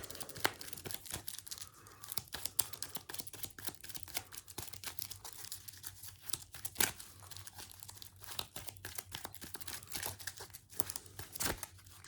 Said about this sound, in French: je vais mélanger bien entendu mon deck